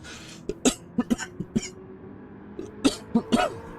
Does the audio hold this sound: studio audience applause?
no